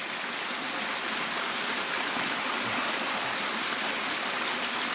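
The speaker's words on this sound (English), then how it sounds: "Look at that view of that waterfall." A waterfall near Easdale Tarn rushes in a steady, dense roar of falling water, close and continuous with no voices.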